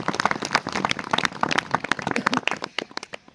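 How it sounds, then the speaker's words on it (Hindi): Audience at a conference claps in welcome for a keynote speaker, sharp separate handclaps from a modest crowd, close and irregular, continuing for about three seconds before tapering off. "इनका भी जोरदार तालियों के साथ स्वागत किया"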